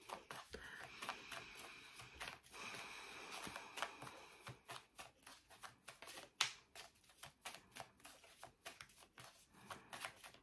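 Tarot cards being shuffled by hand, a continuous run of crisp riffling, slapping and sliding card sounds with irregular rhythm, close and fairly quiet, with no talking.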